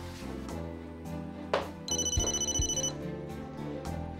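A telephone rings indoors in a Turkish television drama, its electronic trill pulsing rapidly for about a second over a steady background of soft music, with no talking.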